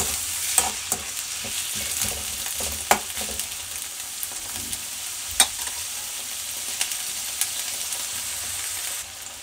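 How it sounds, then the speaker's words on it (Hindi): Carrot and onion stir-fry with about a spoonful of ginger garlic paste for dry cauliflower Manchurian: a steady sizzle with frequent sharp spatula clicks against the pan at irregular intervals, and no one speaking. "जिंजर गार्लिक पेस्ट एक चम्मच के करीब, गाजर प्याज को साथ के साथ भून लेंगे।"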